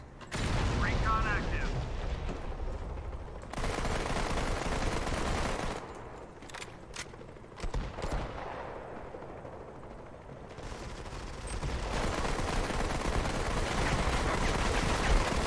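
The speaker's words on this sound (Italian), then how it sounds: "Lo so che mi state sparando da lì, lo so, lo so." Rapid gunfire in the PC shooter Modern Combat 5: dense, loud bursts of shots that fill the clip, thinning briefly in the middle before heavy firing resumes. A voice talks over parts of it.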